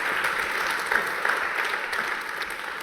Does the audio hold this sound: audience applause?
yes